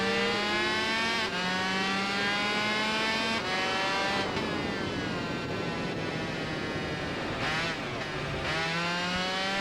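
Motorcycle engine in the Tourist Trophy racing game screams at high revs through a Clubman Cup race, pitch climbing and dropping with repeated gear shifts, loud and continuous with no voices.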